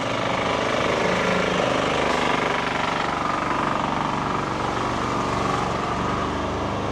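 A street cleaning vehicle washes down new cycle lanes on a city road, giving a loud, continuous mechanical engine drone with a rattling, jackhammer-like edge and no talk.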